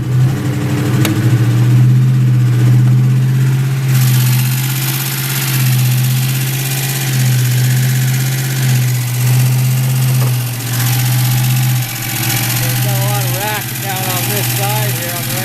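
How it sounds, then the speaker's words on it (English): A Mustang engine runs at a rough, high idle with a rattle, giving a loud, continuous drone that dips and recovers irregularly, while someone talks over it. "It's high idle. It's rough."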